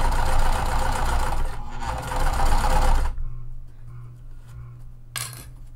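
A sewing machine runs in a fast, steady, mechanical whir for about three seconds while backstitching a seam on a vinyl tote. The motor then stops, leaving a low hum and a brief clink.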